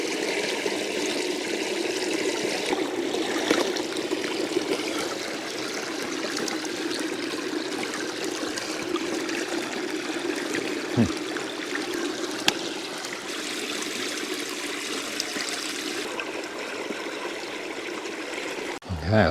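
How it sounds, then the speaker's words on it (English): A mountain stream trickles and babbles steadily at close range while a water bottle is filled, with no clear speech over the continuous flow. "I'm going to fill up my water bottle while I'm here."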